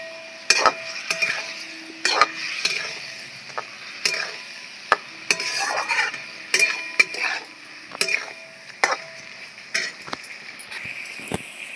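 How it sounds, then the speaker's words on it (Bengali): Fried pointed gourd (potol) tipped into a pan for a milky dudh potol curry, followed by repeated clinks and scrapes of a utensil against the pan over a faint sizzle, close and rhythmic. "ভেজে রাখা পটলগুলো দিয়ে দিচ্ছি।"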